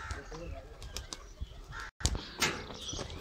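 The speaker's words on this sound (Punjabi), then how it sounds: "ਲਓ ਜੀ ਬਿਸਮਿਲਾ ਪੜ੍ਹ ਕੇ ਜ਼ੈਨ ਦੇ ਮਾਮੂ ਜੈਨ ਕਬੂਤਰ ਡਾ ਦਿੱਤੇ ਜੇ," Pigeons are released and take off, several bursts of close wing flapping and fluttering while someone talks over them.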